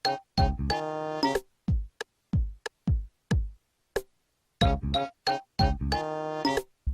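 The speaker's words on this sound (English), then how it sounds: "The post office music from the GameCube sounds like this." A cheerful post office tune from Animal Crossing on GameCube, with short bouncy chime-like phrases alternating with brief percussive plucks and gaps, played alone and fairly clear.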